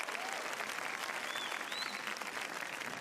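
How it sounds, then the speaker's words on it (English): Sustained audience applause at an Israeli Independence Day ceremony honouring Israel's children, a dense, even wash of clapping from a large crowd with a few faint whistles or cheers above it. "Please give a round of applause to Israel's children."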